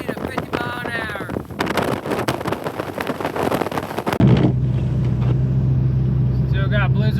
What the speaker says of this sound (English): We got wind gusts from 30 to 50 miles an hour.